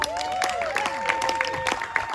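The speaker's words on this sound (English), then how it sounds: "You got to clap, people." Dense applause from a cabaret audience mixed with a few cheers, steady and moderately loud throughout, with a sustained musical tone running beneath it.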